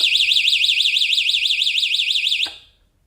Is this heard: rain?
no